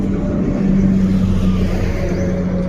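A 2014 Yamaha YBR motorcycle engine idles steadily up close, a continuous low running hum with a slight rise in the middle and no talking over it.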